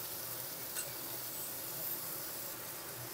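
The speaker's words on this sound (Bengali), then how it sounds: "এবারে আমি এই উপকরণগুলো একটু ভেজে নেব।" Ginger and green chilli paste frying in a pan, a faint steady broadband sizzle with light crackle throughout, no talking.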